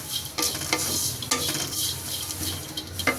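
Dried fish frying in a kadai while being stirred: a steady close sizzle broken by several sharp scraping stir strokes at irregular intervals, with no talk.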